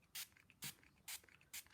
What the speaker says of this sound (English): and then take the spray bottle